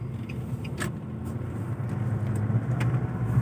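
A car drives slowly along a road through rice fields after a rainstorm, its engine a steady low rumble rising slightly, with faint clicks and light rattles inside the cabin.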